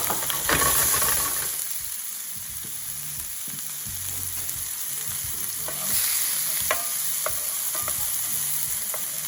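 Onion frying in a pan for a rogan josh curry sauce, a bright hissing sizzle that swells as the onion goes in and settles into a steady crackle with occasional stirring clicks.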